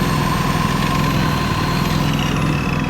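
An old Japanese engine-driven welding generator idles at a steady, close, continuous drone with a low throbbing rumble and a faint mechanical hum, no voices over it.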